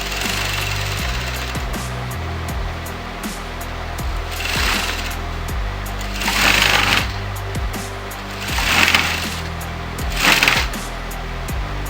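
A sewing machine top-stitches blouse fabric in short bursts of rapid mechanical chatter, loud and close, with pauses and a few louder surges between runs; no one speaks.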